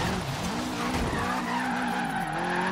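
A 500hp Subaru WRX STI street build in Forza Horizon 3 drifts with all-wheel drive, its tires squealing and skidding continuously over a droning engine, steady and fairly close.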